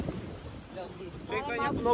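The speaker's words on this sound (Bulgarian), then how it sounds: "Ще ма издуха ветреца." Wind buffets the microphone on a boat ride at Niagara Falls, a steady rough rumble with water noise beneath, while a voice starts talking near the end.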